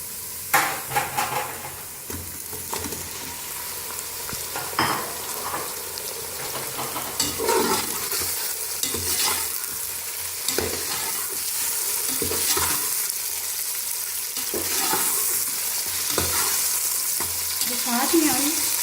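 Chicken for a pulao sizzles and crackles in a pot over lightly browned onions while a spoon scrapes and stirs, a continuous close frying hiss with frequent metallic knocks.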